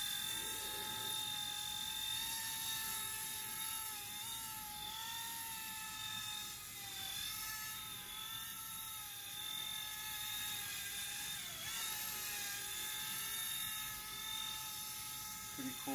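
A Vevor toy helicopter with a gyro stabilizer hovers nearby, its motor giving a steady high-pitched whine with layered rotor tones that shift slightly as it wobbles, held unbroken throughout.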